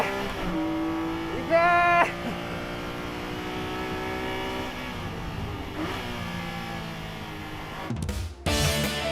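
A Ferrari 458 and a Corvette ZR1 race on a track: a sustained engine drone with shifting tones, a brief louder rising whine, then a sharp burst near the end, with a short spoken exclamation.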